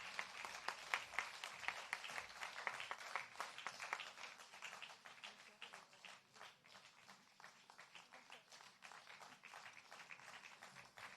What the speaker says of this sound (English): These artists truly should receive a big, big round of applause for their hard work.